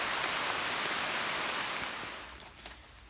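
Heavy rain falling outdoors in a rural Thai setting, a loud, steady broadband hiss that slowly eases off over a few seconds, with no voices.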